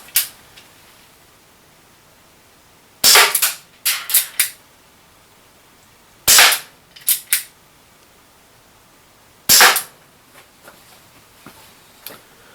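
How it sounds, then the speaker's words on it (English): Loud, sharp revolver shots from a Chiappa Rhino 50DS six-shooter fired outdoors in three quick bursts, a single shot followed by a rapid pair or trio each time, with distinct echoing cracks and near silence between bursts. "don't know where those last few shots went"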